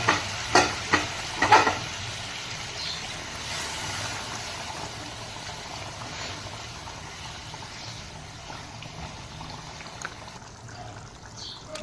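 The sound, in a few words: curry cooking in a pan after hot water is added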